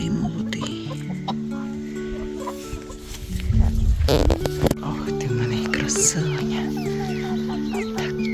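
A mixed flock of backyard chickens, including Orpingtons and Jersey Giants, clucking and murmuring steadily nearby, with occasional louder squawks and a burst of rustling in the middle, while people talk over them.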